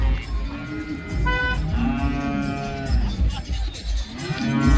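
Several deep, drawn-out water buffalo moos overlap one another at close range at a cattle market, rising and falling over a steady low rumble of farmyard noise.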